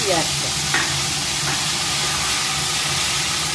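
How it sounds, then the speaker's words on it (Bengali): Chopped onion hitting hot oil already spiced with bay leaf, dried chilli and whole garam masala, giving a dense, steady sizzle and hiss with a few stirring scrapes near the start. "এবার দিয়ে দেবো এই যে একটা পেঁয়াজ কেটে নিয়েছি,"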